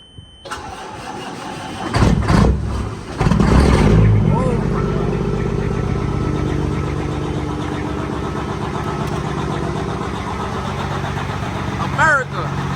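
A Peterbilt 379 truck with straight pipe exhaust cold-starts, cranking briefly before catching and settling into a loud, steady idle, with someone talking over it.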